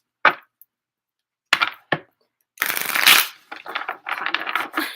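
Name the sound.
shuffling tarot cards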